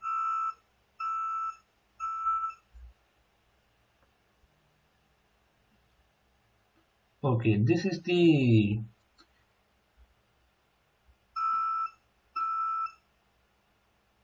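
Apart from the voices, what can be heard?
washing machine project buzzer sounding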